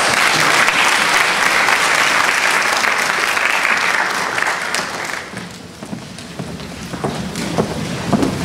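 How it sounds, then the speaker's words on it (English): Audience applause fills a speech night event hall as a speaker is introduced, loud and sustained for about five seconds before thinning into scattered clapping and room noise. "Let's have a round of applause for Rick Morris."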